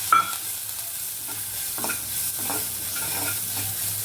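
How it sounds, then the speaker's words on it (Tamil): Masala paste ground on a stone, added to oil with popped mustard seeds and urad dal, fries in a pan with a loud continuous sizzle and soft scraping stir strokes, no talking. "நல்லா ஃப்ரை ஆகட்டும்."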